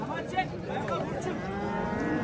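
Cattle at the Nookat livestock market moo repeatedly amid a dense, busy background of market chatter and general noise, the calls moderately close and overlapping.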